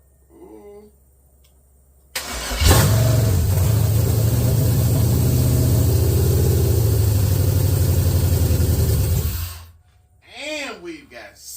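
A Chevrolet S10 mini truck engine is started: a brief crank catches, then the engine settles into a loud, steady idle for about seven seconds before shutting off, with someone talking briefly before and after.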